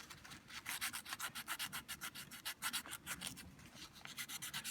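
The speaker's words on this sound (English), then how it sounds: "This is just old sandpaper. I forget what grit it is. It's just some wet or dry stuff" A tiny replica guitar being rubbed with old wet-or-dry sandpaper, giving quick, even back-and-forth scratching strokes, close up and soft, continuing without a break.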